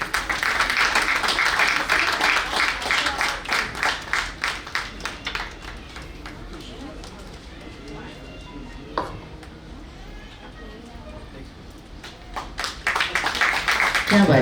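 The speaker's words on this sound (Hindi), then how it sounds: "और तालियां प्लीज।" Audience applause at an award ceremony, with dense clapping that is loud at the start, thins and fades through the middle, then swells again near the end, mixed with scattered voices.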